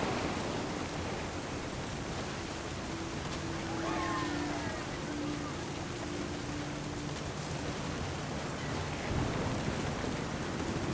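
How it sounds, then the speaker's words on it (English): Steady rain with rumbling thunder in a storm scene from the video game What Remains of Edith Finch, a continuous wash of downpour with low rolls under faint tonal background sounds. "The thunder sounded much too close and full of angry power"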